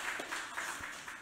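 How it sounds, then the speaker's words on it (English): An audience applauds a guest author, a steady wash of many hands clapping at moderate volume, continuous and even throughout with no talking. "give him a big round of applause"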